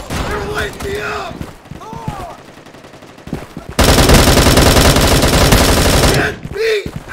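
Gunfire in the mobile shooter video game Bullet Force, a loud, dense sustained automatic burst lasting a few seconds, preceded by scattered shots and game sounds while a voice talks excitedly.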